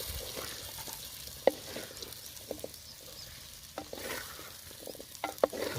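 A spoon stirs onions frying in gravy in a pan, giving soft scraping strokes and occasional sharp clicks against the metal over a gentle, steady sizzle, with no talking.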